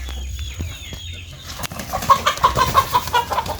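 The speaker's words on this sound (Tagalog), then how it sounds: "meron kami ditong manok na nakawala" Loose chicken on a farm near a range net, clucking in a rhythmic run of short calls with some wing flapping and rustling, close and moderately loud over low background hum.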